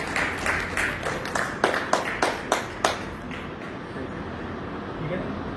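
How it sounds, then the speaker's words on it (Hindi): A group claps hands in a steady, even rhythm of about ten close, distinct claps during a hypnotism session, then falls quiet, with a voice speaking faintly underneath. "एक बार तालियां बजा रहे हैं।"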